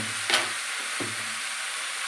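Pre-fried taro pieces stirred in hot oil in a pan, a brief soft sizzle with a couple of light scraping knocks at close range.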